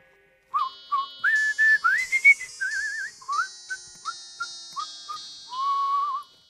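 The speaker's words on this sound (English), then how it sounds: "I can whistle." A person whistles a bright, clear tune of short rising and falling notes, some brief and chirpy, ending on one longer held tone, with nothing else underneath.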